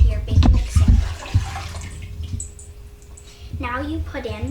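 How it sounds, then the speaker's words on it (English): Warm water splashes and gurgles briefly into a big mixing bowl as bread dough is started, followed by a speaking voice. "Pour it into your big mixing bowl."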